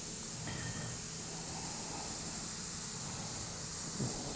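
Steady hiss of an airbrush spraying paint onto a biomechanical skull, a continuous close airy spray running without a break for the whole stretch.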